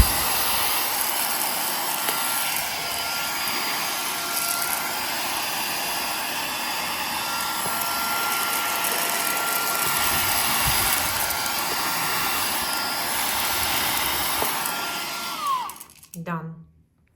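A portable cordless handheld 4-in-1 car vacuum cleaner with 12000Pa suction, running as it cleans dusty interior moldings and windows: a steady, loud motor whine and airflow hiss holding for about fifteen seconds, then cutting off abruptly, with no talking over it.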